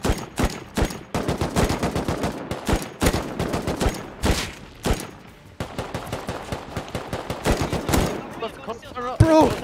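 Rapid bursts of gunfire crack out in the survival game Rust, loud and close, with dense volleys of sharp shots in irregular clusters almost throughout, ending in a final heavy shot.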